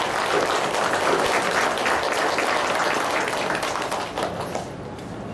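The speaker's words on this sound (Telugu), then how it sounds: "ఆయనకు ఒకసారి చప్పట్లు కొడతామా?" An audience in a meditation and spiritual class gives a round of applause, with full, steady clapping that fades out over the last second.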